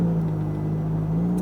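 Ferrari F430 on a race track, its engine droning steadily and close, holding a loud, even mid-pitched roar without any break.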